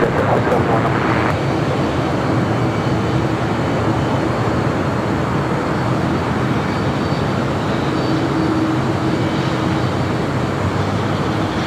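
A jet airliner comes in to land on runway 25 left at Los Angeles International Airport, a loud steady roar of engines with broadband rumble that holds throughout, with faint radio chatter beneath.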